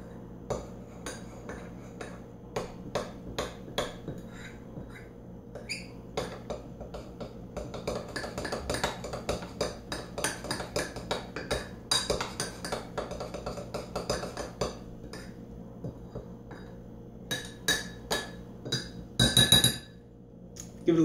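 A spoon mixes Mexican hot chocolate mug cake batter inside a ceramic mug, making a fast, steady run of bright clinks and scrapes against the sides. It is close and quiet, ending in a brief louder rattle, with no talking.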